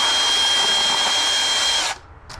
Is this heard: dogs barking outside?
no